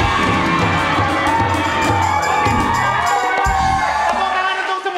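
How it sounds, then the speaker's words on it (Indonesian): A lively crowd cheers and whoops loudly with claps and shouts throughout, a dense, continuous wall of audience noise. "Tepuk tangan untuk semua tamu-tamu kita."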